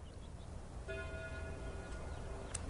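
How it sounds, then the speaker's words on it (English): Distant church bells ringing as a faint tonal hum with ringing overtones that rises under a steady wind-like background wash. "At that moment, the church bells began to ring."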